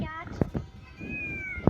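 A cat meows in short tonal calls, with a voice speaking nearby over and between them, fairly close and moderately loud.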